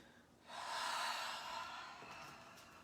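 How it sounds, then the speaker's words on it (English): A slow, deep exhale during a guided yoga practice, a long breathy rush of air that swells and then gradually fades, soft and close with no talk over it. "And even slower, more complete exhales all the way to empty."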